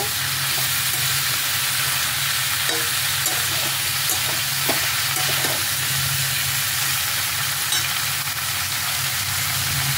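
Sliced pointed gourd stirred into hot oil with shrimp, a steady close sizzle and hiss running the whole time, broken by occasional spoon scrapes against the pan.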